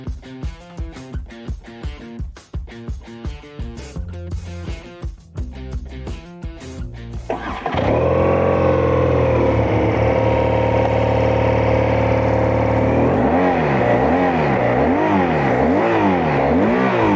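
A BMW R12 motorcycle's engine starts up in São Paulo traffic, going from a series of short rhythmic pulses into a loud, steady close-up drone that then rises and falls in pitch as it revs repeatedly.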